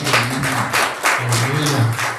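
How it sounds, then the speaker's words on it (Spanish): Claps in a rhythmic pattern from a church congregation after an amen in a Spanish-language service. The clapping is loud and close, with a sustained tonal voice or music underneath. "Denle un aplauso por el amén."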